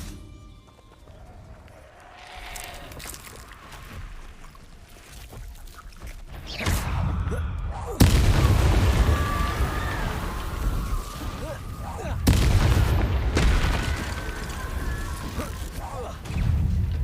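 Confringo blast spells exploding during a Hogwarts Legacy battle, several loud booming impacts hitting at intervals amid busy combat noise, with voices talking over parts.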